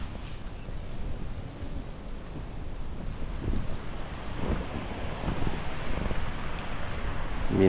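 Strong typhoon wind gusts and roars continuously, buffeting the microphone with a deep rumbling rush that swells and surges, with rain falling.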